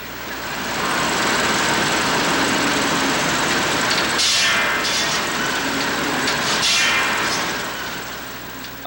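Sawmill at a 1994 John Deere expo in Rollag, Minnesota, sawing pallet lumber: a steady engine drone with the blade biting through wood in two brighter surges, loud and unbroken.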